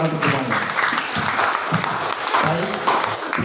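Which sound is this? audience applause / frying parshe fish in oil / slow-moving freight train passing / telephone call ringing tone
audience applause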